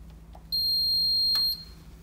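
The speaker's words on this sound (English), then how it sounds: "One beep means it is on." A single sharp electronic beep from an ELKAtherm electric heater being switched on, about a second long and high-pitched, sounds clearly against a quiet background.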